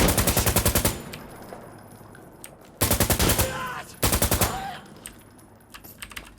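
Bursts of automatic AK rifle fire in Insurgency Sandstorm, three rapid rattling volleys of close, loud shots separated by short pauses, with a few scattered single shots trailing off at the end.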